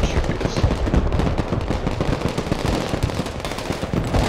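Gunfire from the Broken Arrow battle game crackles continuously in dense, rapid bursts like machine-gun and small-arms fire, loud and unbroken throughout.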